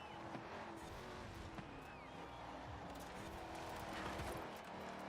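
A racing game car's engine drones steadily while the driver feathers the throttle through a turn, a continuous mid-level hum with faint tire noise and no voices.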